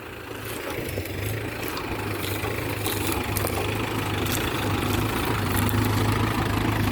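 A heavy farm tractor engine idles steadily with a low rumbling throb that grows slightly louder, plus faint clanks and background noise; no speech.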